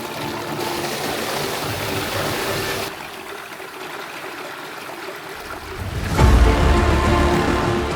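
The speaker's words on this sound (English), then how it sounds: "Welcome to Erin Ijesha Waterfall, one of Nigeria's most breathtaking natural wonders." Erin Ijesha Waterfall in Osun State, Nigeria, pours as a steady broadband rush of falling water that grows louder and heavier near the end, with no voices.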